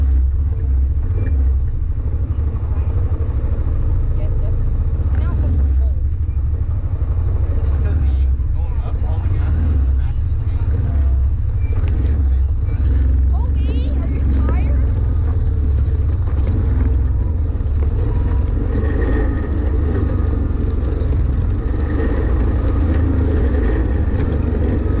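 A car rolls down Lion Hill in Ophir, Utah, giving a continuous low road rumble and engine drone from inside, with voices talking over it throughout.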